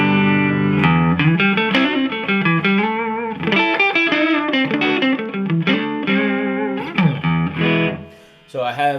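Electric guitar played with a clean, dry tone, unprocessed signal without effects, a steady run of picked chords and notes with sustain, close and fairly loud, no talking.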